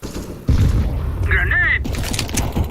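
A grenade explodes in Counter-Strike: Global Offensive, a loud close boom followed by rumbling and a brief ringing whine, with speech-like sounds mixed in.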